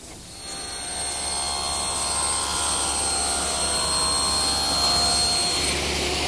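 A saw rips one edge of a planed pine board at a 3.5 degree bevel, the motor spinning up, then a loud, steady whine and rumble of the cut that carries on without a break.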